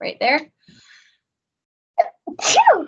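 A person sneezes sharply and close by during a classroom geometry lesson, with a short burst followed by a louder second sneeze after a pause, and a few spoken words in between.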